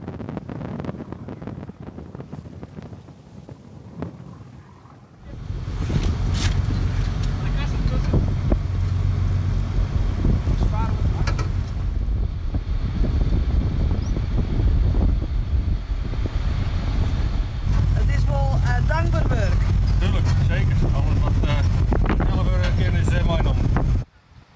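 After a few quieter seconds, a loud KNRM lifeboat engine rumbles continuously with wind buffeting the microphone and occasional voices.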